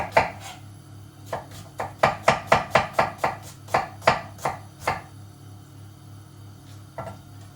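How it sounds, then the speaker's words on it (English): A knife finely slicing a red onion on a board, a quick run of about a dozen crisp, close chops in a steady rhythm, then a pause and a couple of isolated cuts, with no talking. "So I'm just going to finely slice my onion."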